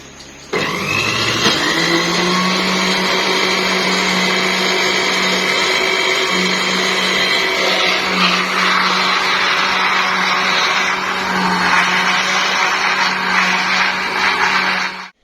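An electric blender churns curd into buttermilk, a loud, close, continuous motor whine with a steady hum that starts abruptly, holds for about fourteen seconds, then cuts off.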